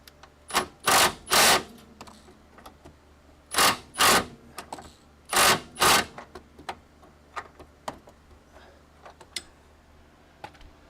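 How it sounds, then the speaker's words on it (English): Impact wrench working on the front suspension of a 1991 Camaro during a QA1 suspension swap: three pairs of loud, close rattling bursts, each about half a second, followed by lighter ratcheting clicks and taps. "I might be able to get the impact wrench in there now."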